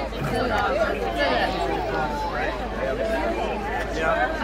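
A crowd chatters on a busy London street, a dense, continuous babble of many overlapping voices close around.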